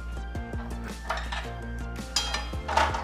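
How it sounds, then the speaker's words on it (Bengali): Metal utensil clinks and scrapes against an oil-coated kadai while oil is spread around the pan for Maggi pakora; several close, distinct taps and clatters over a steady low background hum. "আর কড়াইয়ে তেলটা পুরো একদম ছড়িয়ে দিতে হবে।"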